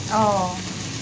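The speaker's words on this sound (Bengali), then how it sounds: "পাতুরিগুলো এপিট ওপিট ভালো করে সেকে নিয়ে নামিয়ে নিচ্ছি।" Fish paturi frying in a pan, turned side to side for a festive home meal, giving a steady close sizzle with a brief tonal hiss near the start and no talk.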